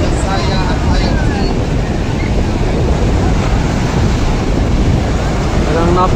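Big ocean waves churn during a bancarera boat race, a loud, unbroken roar of surf and wind buffeting the microphone, with voices faintly mixed into the rush.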